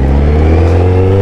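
A motorcycle with a loud, raspy tin-can exhaust revs hard and steady, close by, a rough droning roar with no voices.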